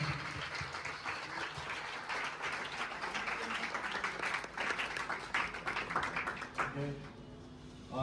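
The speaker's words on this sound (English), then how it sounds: "Let's give a round of applause to welcome our chief guest." An audience at an academy awards ceremony applauds to welcome the chief guest, with dense clapping that fades after about seven seconds, when a voice begins speaking.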